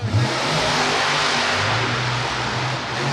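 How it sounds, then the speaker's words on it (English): A monster truck engine revs loud and close inside SoFi Stadium, a sustained throaty roar with a steady rumbling low end and no speech. "Monster trucks are so loud."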